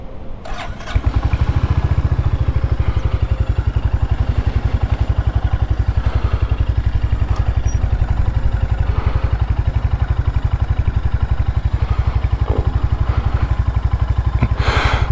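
A Royal Enfield Hunter 350 motorcycle on a test ride fires up after a brief pause and then runs steadily and loudly close by, a continuous single-cylinder thump holding for the rest of the stretch with no talk over it.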